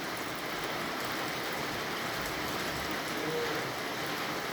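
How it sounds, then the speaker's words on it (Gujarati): Light drizzling monsoon rain falling steadily in July, a soft even patter throughout with no talk. "તો ઝરમર ઝરમર વરસાદ વરસવાનું શરૂ થઈ ગયું છે"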